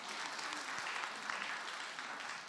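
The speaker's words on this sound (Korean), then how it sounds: "13명 박수 치고." Many hands of a church congregation clapping together at a Korean evangelism testimony gathering, a continuous crowded patter that holds steady and fairly soft in the hall.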